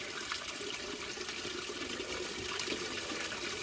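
A large volume of water rushes steadily, a dense continuous gushing that holds at an even level throughout, with no voices.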